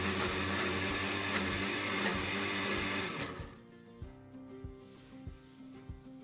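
A blender whirs loudly, grinding spices with cooking oil for green chili fried rice, for about three seconds, then cuts off, leaving quiet kitchen clatter and light knocks.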